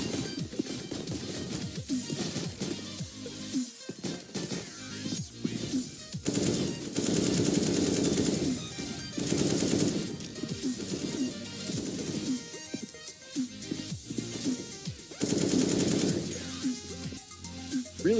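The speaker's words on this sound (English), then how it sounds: "He's got that AK and Kevlar to boot, but Alu with a nice quick flick drops Chrome and takes 2." AK rifle fire in a Counter-Strike esports match rattles in rapid bursts throughout, dense and loud, mixed with game effects and busy crowd and arena noise.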